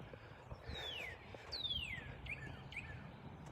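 Several high, clear descending whistled bird calls ring out one after another over a quiet outdoor background, fairly faint and distant.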